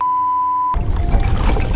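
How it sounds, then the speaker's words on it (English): A mobile phone on a fishing boat sounds an incoming-call alert: one steady, clear electronic tone lasting under a second, then it cuts off into rushing boat and water noise. "Oh, I got a phone call."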